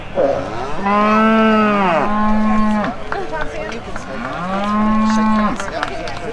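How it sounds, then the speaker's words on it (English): A 4-year-old in-milk Holstein dairy cow at an agricultural show, with three long, loud, close moos and short pauses between them. "the 4-year-old in-milk Holstein cow"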